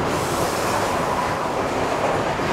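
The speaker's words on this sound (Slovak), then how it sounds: "A práve nám doráža vlak." A train pulls into a beach-side station at Kalutara, Sri Lanka, its broad, steady rumble of wheels and carriages loud and continuous throughout, with no one talking.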